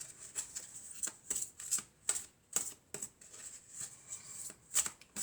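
A fairy tarot deck is shuffled by hand, a quick irregular series of crisp papery riffles and taps at close range, quiet overall with no talking.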